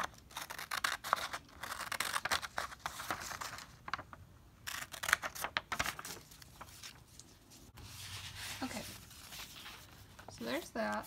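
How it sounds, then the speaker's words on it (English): Scissors snip through a paper page for a file folder game in irregular short cuts, heard close but quiet beneath a person talking over them. "So I will start cutting out this page, and then I'll tape it there."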